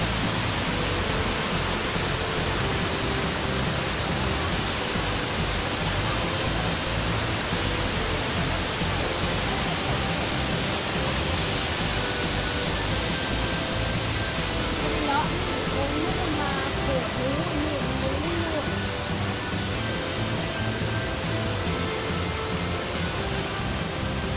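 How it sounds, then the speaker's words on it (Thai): Steady, dense rush of falling water from Chet Sao Noi Waterfall in Thailand fills the whole clip, a constant broadband roar with no breaks, close and loud. "มองเสียงน้ำตก"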